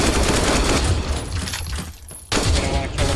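AK rifle fire from enemy scavs in a shooter game rattles in dense rapid bursts, loud and continuous, dropping briefly before resuming.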